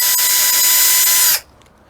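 A cordless power drill with a small bit pre-drills a pilot hole in a wooden fence post, whirring steadily and loudly up close for over a second before stopping abruptly.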